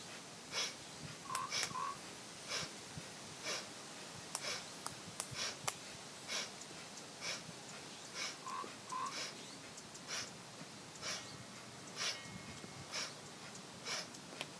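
Rhythmic Kundalini yoga breathing, repeated sharp nasal inhales and exhales in an even pulse, close and fairly quiet, with no talking.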